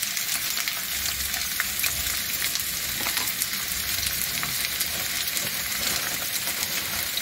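Pork roast browning in a hot pan gives a steady, dense frying sizzle with an even hiss that holds at a constant level throughout, with no voices.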